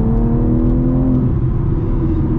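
A 2022 BMW M3 Competition Track on 20-inch rear wheels accelerating under a brief press of the throttle, its engine a loud, steady, close droning rumble with a rising whine throughout.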